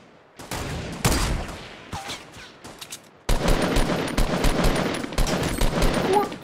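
Rapid bursts of gunfire in a video game shooter, scattered shots at first, then dense sustained automatic fire that is loud and close.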